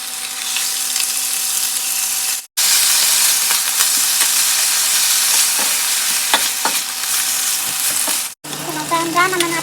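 Onions and 400 grams of meat brown in a hot pan for pancit canton, giving a loud, continuous sizzle with scraping stir strokes, broken by two brief gaps.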